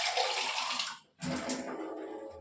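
Water pours into a pan of mashed eggplant on an unlit gas stove in a home kitchen, a steady splashing rush that stops briefly and then resumes, close and fairly loud.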